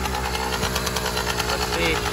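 Motorcycle engine fitted with a CNC high compression head, revving steadily after a short ride with a dense, knocking idle-to-rev drone throughout, close and loud.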